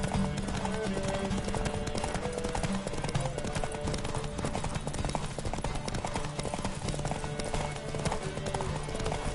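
In the video game The Witcher 3, horse hooves pound in a fast galloping rhythm, dense and continuous, under a busy wash of noise.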